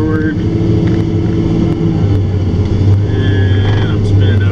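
A John Deere 644K wheel loader pushing snow, its engine droning loud and steady with a high whine from the spinning tires rising near the end, while someone talks over it.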